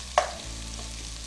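Onions cook gently in a hot pan turned down to medium low, a soft even sizzle that opens with one brief clink of a utensil, heard close with no voices.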